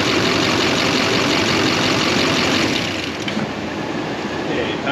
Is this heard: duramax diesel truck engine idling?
yes